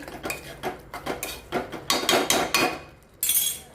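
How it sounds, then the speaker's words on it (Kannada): Utensil scraping and clinking against a pot while jaggery is stirred into a cooking dish, a run of quick metallic knocks and scrapes in uneven rhythm, close and fairly loud, with no talking. "ಇದಕ್ಕೀಗ ಬೆಲ್ಲ ಹಾಕಿ ಚೆನ್ನಾಗಿ ಮಿಕ್ಸ್ ಮಾಡೋಣಂತ್ರಿ"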